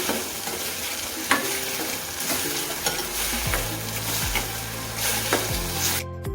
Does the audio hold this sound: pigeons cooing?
no